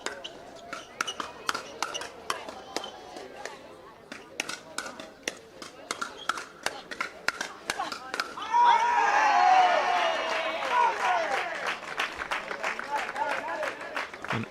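At a Reballution match, sharp ball impacts ring out in a quick irregular rhythm, and then a crowd rises into a burst of shouting and applause partway through, while a commentator talks over it.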